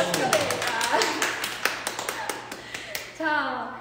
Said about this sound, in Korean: 저희 박수 한 번 드릴까요?